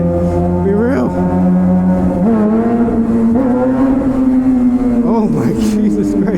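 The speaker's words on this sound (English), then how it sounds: "fucking popping the wheel up on a power wheelie right now" A Suzuki GSX-R 600 motorcycle engine drones loudly and steadily through a power wheelie, its pitch rising and dipping several times, with heavy wind roar throughout.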